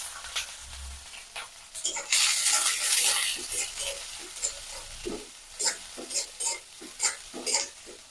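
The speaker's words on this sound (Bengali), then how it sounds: "এবার আমি দিয়ে নেবো আগে থেকে কেটে রাখা পেঁয়াজ ও কাঁচামরিচ, দিয়ে সুন্দর করে ভেজে নেব।" Chopped onions and green chillies dropped into hot oil for a Bengali dried-fish mixed greens dish, a loud hissing burst followed by intermittent sizzling and stirring scrapes, close by.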